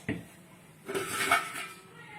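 Metal cooking vessels and small pots being handled, a sharp clank at the start followed by a cluster of ringing, scraping metallic knocks, fairly close.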